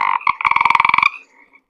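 A single bullfrog croaks loud and close in a rapid burst of deep, buzzy pulses, then fades to a faint trailing call.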